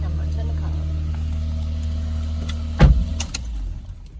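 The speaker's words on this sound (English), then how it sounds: "That's just the engine." A Lexus IS200 car engine idles with a steady low hum close by, then a sharp clunk or knock sounds partway through and the running engine carries on after it.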